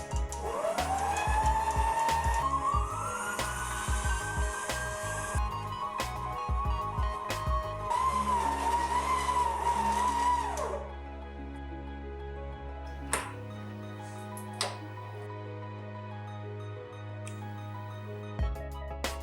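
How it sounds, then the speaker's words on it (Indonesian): An electric hand mixer at low speed works cookie dough with cornstarch, giving a steady buzzing motor whine for about ten seconds before it cuts off, leaving a quieter hum and a few scattered clicks. "Mixer lagi dengan kecepatan rendah asal sampai tercampur rata."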